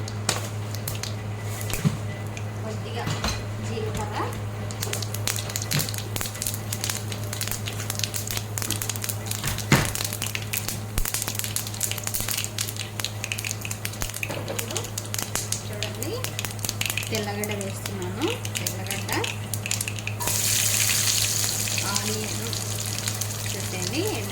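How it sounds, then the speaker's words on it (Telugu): Mustard seeds sizzle and pop in hot oil in a pan, a steady crackling fry with scattered sharp pops throughout, fairly quiet. "ఆయిల్ వేసాను ప్యాన్ పెట్టేసి ఇప్పుడు మనము ఆవాలు వేసుకుంటున్నాను"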